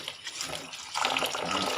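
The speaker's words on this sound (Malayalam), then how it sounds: "അരി എടുത്ത് കഴുകി" Tap water runs steadily over rice being washed in a home kitchen, a continuous close splashing hiss that swells louder halfway through, with no voices.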